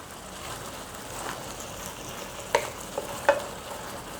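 Sloppy joe mixture with garlic and onion powder sizzling in a pan while being stirred, a soft steady frying hiss with a few sharp clinks of the spoon against the pan, no voices.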